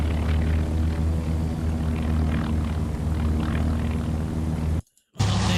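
Propeller warplanes drone in a naval air battle at Midway in the game Task Force Admiral, a loud steady engine hum with shifting overtones, cut by a brief moment of silence before resuming.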